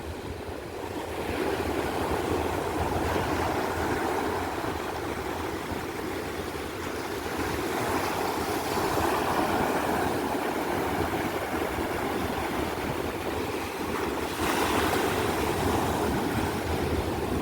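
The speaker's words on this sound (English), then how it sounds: "Those waves are monstrous out there." Ocean waves crash and wash continuously on Flagler Beach, Florida, a loud broad roar with swelling surges and wind buffeting the microphone, no voices.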